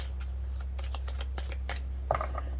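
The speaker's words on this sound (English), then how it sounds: "Then what you want to do is shuffle your majors to determine who was killed." Several quick riffle shuffles of a small stack of tarot major arcana cards, close up, crisp flapping bursts with a steady low hum beneath and a brief tap near the end.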